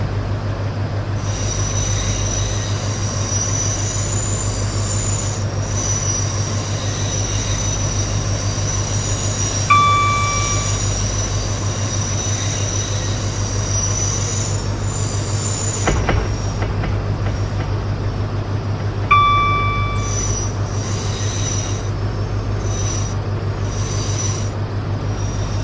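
A Class 43 locomotive in a video game rumbles steadily with a low drone as it approaches a platform, its wheels squealing on the rails, while two short electronic chimes ring out during the ride.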